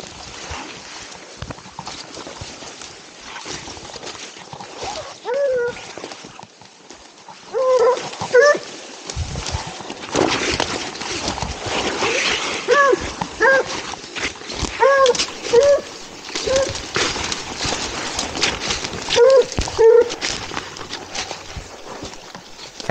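A tracking dog on an injured deer's scent trail lets out occasional short barks and whimpers at a distance, over steady outdoor background noise.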